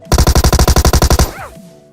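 Video game bots fire guns continuously in one rapid, loud automatic burst of about a dozen evenly spaced shots, then a brief whooshing ricochet-like sweep and fading tail.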